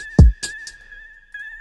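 A chopped vocal sample in an R&B beat fires two quick hits over a sustained high tone, then a sparse pause before the tone returns.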